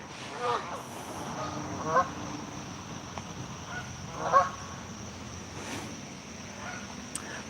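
Wild geese honk in a few scattered calls, moderately distant, over a steady outdoor background with a faint high insect-like whine.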